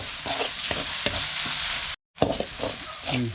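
Frog and tadpole curry being stir-fried in a hot pan, a steady sizzle broken by scraping stirs of the spatula, with a brief silent gap midway before the frying resumes.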